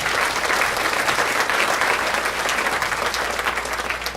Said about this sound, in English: Give all our sponsors a hand.